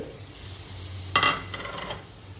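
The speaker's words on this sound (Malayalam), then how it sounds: "ഞാനിതിലേക്ക് ഒരു അര തക്കാളി ചെറിയ പീസുകളാക്കി ഇത് ഇതിലേക്ക് ഇട്ട് കൊടുക്കുന്നുണ്ട്" A pan of Kerala-style fish molly sizzles steadily until chopped tomato is tossed in with a sharp, bright clatter partway through. Softer stirring scrapes follow over the ongoing frying hiss, and no one speaks.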